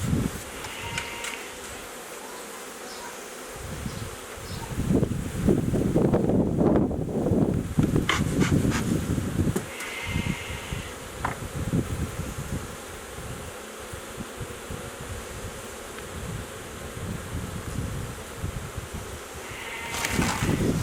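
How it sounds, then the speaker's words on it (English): Dense, continuous buzzing of many honeybees in a queen-rearing hive box, close and steady, with rustling and handling knocks around the box but no talking. "Lots of bees in this box, that's what you need to rear good queens."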